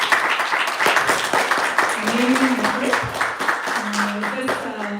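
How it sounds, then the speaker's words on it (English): A crowd claps in applause after a children's Hari Katha presentation at a devotional gathering, a dense, continuous patter of many hands lasting several seconds, with voices and a sustained tone sounding over it. "Let's give them a big round of applause."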